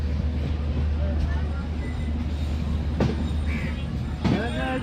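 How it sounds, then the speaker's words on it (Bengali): The Madhumati Express rolls along on a winter rail journey toward Poradah Junction. A constant low rumble of wheels and carriage fills the cabin, with occasional squeals and faint voices nearby. "এই যে ট্রেন আগায় যাচ্ছে আমাদের ট্রেন কি যেন কয়, মধুমতি এক্সপ্রেস"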